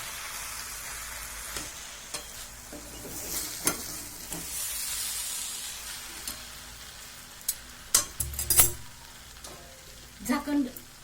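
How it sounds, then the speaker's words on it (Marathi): Zunka made with greens being stirred in a pan, a soft continuous sizzle with repeated scraping and tapping of a spatula against the pan, louder clatters near the end, heard close with no talking. "हे बघ, असं चांगलं खालून वर हलवून घ्यायचं, त्याला मिक्स करायचं"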